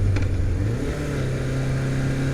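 Engine of a 1978 Honda CB750F motorcycle revving close by, a steady throaty drone that dips slightly and then holds at an even idle-like pitch for a couple of seconds.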